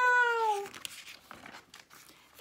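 A kitten meowing close and clear, one drawn-out falling mew, followed by soft rustling and small scuffling sounds and a brief sharp burst at the end.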